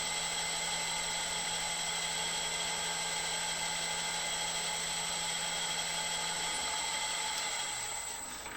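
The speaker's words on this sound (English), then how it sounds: "Just a pilot drill." A continuous high whine of a pilot drill boring steadily into metal, unchanging for several seconds before easing slightly at the end.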